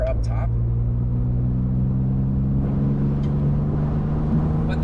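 A BMW Z3 with the 2.3 engine drones steadily from inside the cabin while driving, a low even rumble with a faint voice over it.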